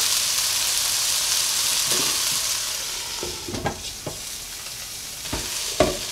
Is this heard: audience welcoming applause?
no